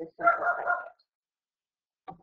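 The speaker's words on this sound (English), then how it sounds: "That's my dog barking." A dog barks indoors, a short burst of barking followed by a single quieter yap after a pause of silence, with a person speaking nearby.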